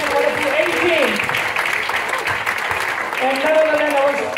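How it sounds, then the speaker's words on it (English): Applause from an event audience at a training gathering for ushers and the registration desk team, a dense steady patter of clapping with voices talking over it throughout. "Give a huge round of applause, guys."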